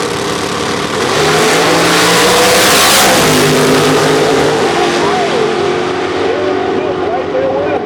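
Nitrous-powered outlaw street cars launching side by side in a drag race, a loud, sustained engine roar that builds after the first second and holds steady to the end, with commentary talking over it.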